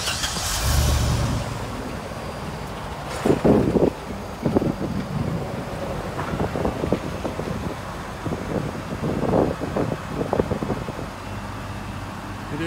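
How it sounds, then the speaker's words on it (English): A 2005 GMC C7509 forestry bucket truck's big engine starts and settles into a steady low, rumbling idle on a cold morning in the 20s, with wind buffeting the microphone and a few louder surges along the way. "now we will start up the big motor and let you listen to it."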